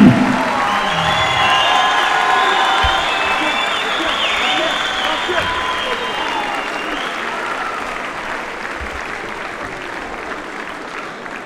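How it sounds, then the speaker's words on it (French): A large crowd at a French boxing (savate) match applauds and cheers, a loud, dense wash of clapping with scattered whoops and shouts that slowly fades, while a high-pitched voice rings out early. "On les applaudit, s'il vous plaît."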